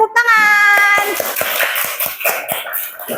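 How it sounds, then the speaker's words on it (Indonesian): Children in a classroom clap together after a group answers correctly, a burst of sharp claps following a short voice, loud and close, lasting a few seconds. "Kita beri tepuk tangan."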